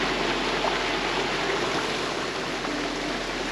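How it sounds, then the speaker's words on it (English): Small creek and miniature waterfall in the Daylesford mineral reserve, giving a steady, close, even wash of splashing water with no pauses and no voices. "just behind me is a little creek and a miniature waterfall"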